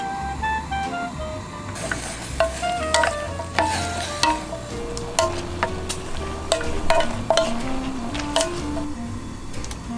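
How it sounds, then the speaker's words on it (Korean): Sliced onions stir-fry in a seasoning sauce in a pan at a solo campsite, giving a soft, steady sizzle broken by repeated sharp clicks and scrapes of a utensil stirring, close and moderately quiet with no talk. "이제 만들어둔 양념장에 양파를 넣고 볶아요."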